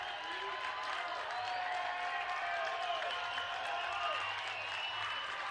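A BYU vs. Utah baseball crowd roars at a full 3-2 count, a sustained wash of cheering and clapping that stays fairly distant and even. Scattered shouts and whistles rise from the stands.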